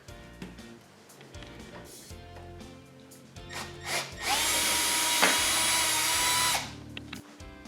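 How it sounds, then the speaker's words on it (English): A power drill with a 7/32 bit whirs steadily for a couple of seconds at close range, drilling a bolt held in a vise, preceded by scraping and handling noises around a workbench. "we'll drill it in with a 7/32 drill bit"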